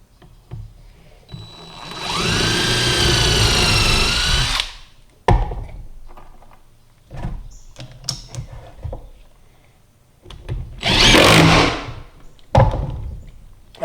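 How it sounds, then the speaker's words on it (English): Power drill pre-drilling holes in the wood of a vacuum and utility stand: a loud sustained whirring burst, then clattering handling noises, a second shorter drilling burst, and more knocks, with no talking. "I put that first one in there and that holds it while I pre-drill the other holes"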